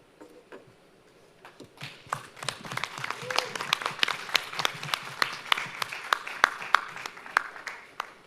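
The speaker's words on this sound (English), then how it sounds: "please clap for yourselves" Sparse, scattered clapping from a small audience after a health innovation pitch competition round. It starts as a few hands and builds to steady, moderately close claps.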